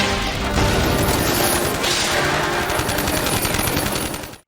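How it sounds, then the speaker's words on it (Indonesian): A long-range gunshot blast in an anime battle scene, heard as a loud, dense crashing roar of gunfire and explosion that sustains without letup, then cuts off abruptly at the end. "Nagumo langsung meledakkan seekor monster dari tembakan jarak jauhnya. Tembakan itu menjadi sinyal pertempuran telah dimulai"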